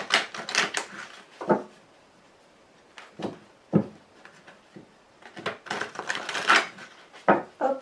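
A deck of cards is shuffled and cut during a card reading, giving close, crisp bursts of riffling and slapping in clustered spurts with short pauses between them.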